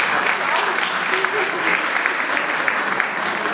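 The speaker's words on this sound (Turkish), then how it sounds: "Ona bir moral alkışı verelim." A hall audience at a Women's Day and martyrs' commemoration program gives steady, dense applause of encouragement, loud and continuous, with faint voices underneath.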